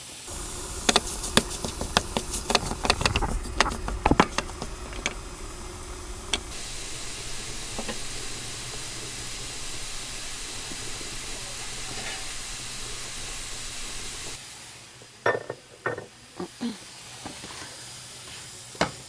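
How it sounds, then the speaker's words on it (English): Ground pork browns in a hot pan with a steady, broad sizzle running throughout, punctuated by clacks and scrapes of stirring early on and again near the end. "browning the ground pork and getting that all kind of separated out so it browns nice"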